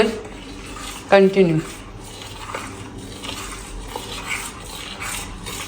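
Spoon stirring a thick porridge-like mixture in a pot, with soft scraping and a few clinks through a steady background, and a brief voice near the start.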